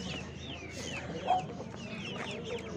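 Chickens and roosters cluck and call in a steady background murmur at a village poultry market in Gördes, with one brief louder squawk rising above the crowd of birds.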